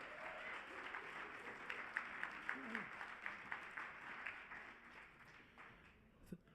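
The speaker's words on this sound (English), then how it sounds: "ladies and gentlemen, a nice warm round of applause for Max Heinig" A live audience at a Martin Luther King Jr. Day celebration gives a warm round of applause for a performer about to recite poetry, steady moderate clapping from a crowd with a few sharper claps standing out, fairly distant in the room.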